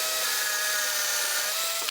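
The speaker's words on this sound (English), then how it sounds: "The first hole that I'm going to drill is here at this end" Power drill boring through a metal mending brace into a wooden chair, a steady high whining drone held for nearly two seconds before cutting off abruptly.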